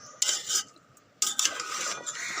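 A rohu fish curry with potatoes and stems is stirred in a rice cooker pot: two short bursts of metal spoon scraping against the pot, separated by a brief quieter gap.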